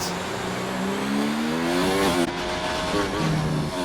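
Onboard race car engine in an Xbox racing league game on soft tyres, revving hard through the gears with rising and falling pitch sweeps and a brief lift around a shift, loud and close.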